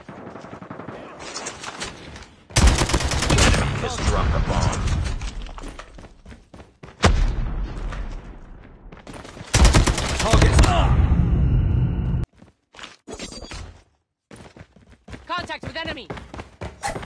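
AK-47 gunfire in a Search and Destroy round of a shooter game comes in loud repeated bursts separated by short gaps, with game announcer voice lines in between.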